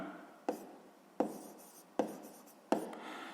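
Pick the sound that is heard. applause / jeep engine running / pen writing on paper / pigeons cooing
pen writing on paper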